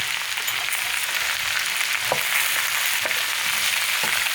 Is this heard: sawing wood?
no